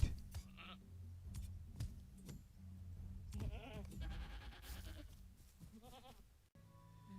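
Goats bleating in a rural setting: several short, wavering bleats scattered over a background of low rumble and rustling, with one close, prominent call near the middle and another toward the end.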